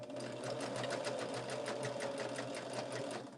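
A sewing machine runs continuously while stitching quilt sashing, its needle producing a fast, even pulsing rattle over a low motor hum, close and fairly loud throughout with no voices.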